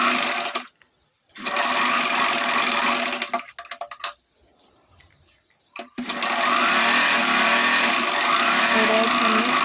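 A sewing machine stitches lining onto the sleeves of a katori blouse, running in loud, steady bursts that stop briefly and then start again, with no talking.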